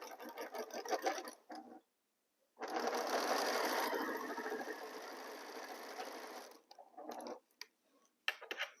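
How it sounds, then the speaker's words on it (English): A sewing machine stitches a 1/4 inch seam on Jacob's Ladder quilt pieces: a short run, a pause, then a longer steady burst of rapid needle clatter, followed by a few brief stop-start bursts, close and clear. "I start sewing up a 1/4 inch seam allowance."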